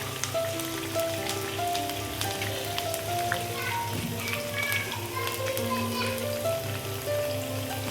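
Cumin seeds, green chilli and bay leaf sizzle in hot oil for a hotel-style paneer veg pulao, giving a dense, steady crackle with brief louder pops. A faint voice sounds beneath the frying.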